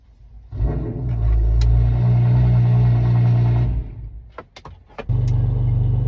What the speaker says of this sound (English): his car's too loud